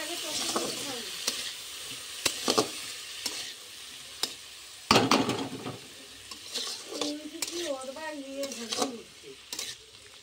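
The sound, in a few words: potatoes frying in a pan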